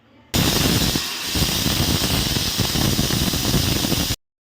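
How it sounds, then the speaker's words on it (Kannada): A pressure cooker whistle venting steam while chickpea sambar cooks, a loud, continuous rushing hiss that starts abruptly, holds for about four seconds and then cuts off sharply. "ಎರಡು ವಿಷಲ್ ಆದರೆ ಸಾಕಾಗುತ್ತೆ"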